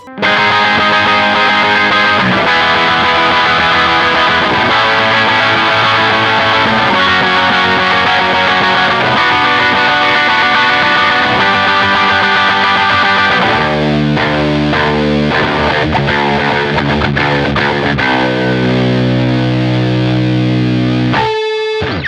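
A heavily distorted electric guitar chugs out a rhythm riff, loud and dense, with palm-muted chords and a brief pause near the end.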